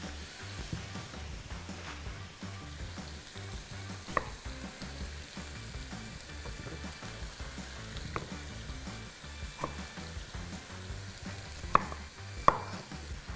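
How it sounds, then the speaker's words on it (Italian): Beef tripe browning in a pan with a soft, steady sizzle while potatoes are chopped nearby, a run of irregular knife taps on a board layered over the frying. "Ora faccio rosolare per qualche minuto il tempo che mi serve per tagliare le patate"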